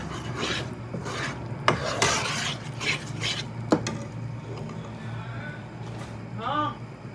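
A pan of eggs and milk cooking on a stove for a winter recipe, with steady scraping and rasping of a utensil stirring against the pan, a few sharp clinks, and a faint hiss of frying underneath.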